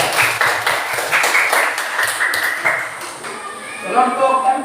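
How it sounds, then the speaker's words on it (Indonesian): Classroom applause for a student group, a burst of quick overlapping claps from a room of children, fairly close and fading after a few seconds as a voice speaks over the end. "Oke, tepuk tangan dulu buat kelompok."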